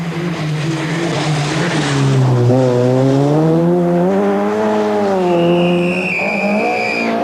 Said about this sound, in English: After McRae, Group A runners Bertie Fisher and here Austin McHale pirouetting in 7th